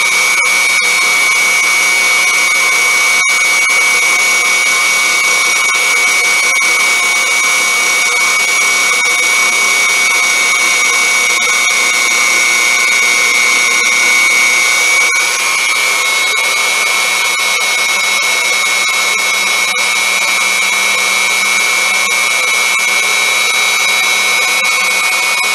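A fly cutter on a Unimat SL1000 lathe cuts metal chips, producing a continuous high-pitched motor whine with a steady whirr and faint ticking, close and loud, and the tone changes slightly partway through.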